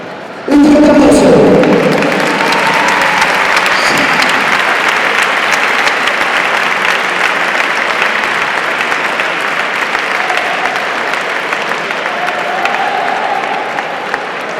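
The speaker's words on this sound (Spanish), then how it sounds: "Un fuerte aplauso." Loud, sustained applause from a crowd at a Coruña boxing tribute event, a steady wash of clapping that holds for about fourteen seconds after a brief voice at the start.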